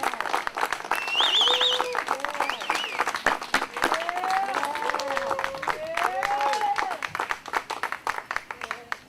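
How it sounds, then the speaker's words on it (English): A round of applause rises from a crowd at an outdoor BBQ community event, with steady dense clapping that thins toward the end while someone talks over it through a microphone. "Let's give a big round of applause to Shulam for all of his work and dedication to this organization and community."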